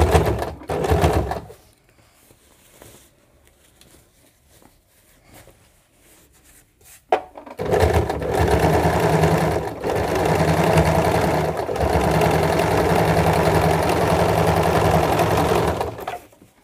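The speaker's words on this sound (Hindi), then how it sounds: "यहाँ पर इसे मोड़ते हुए आपको बाहर की साइड से सिलाई लगानी है" Sewing machine stitching a newborn baby cap, a brief run at the start, a quiet pause, then a loud steady whir of continuous stitching for about nine seconds with small changes in pace.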